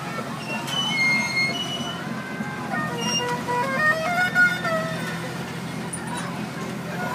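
A fairground train ride rolls along with a steady rumble and repeated high squeals and whistle-like tones from the wheels, moderately loud and close.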